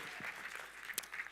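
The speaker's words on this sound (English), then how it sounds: "A little applause, at least a little applause." A faint, steady patter of applause from an audience at a programming contest opening ceremony, distant and brief, with a slightly louder clap near the end.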